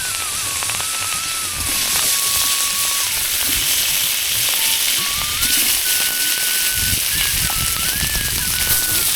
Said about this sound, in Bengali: মাছগুলা ভাজি করে নেব।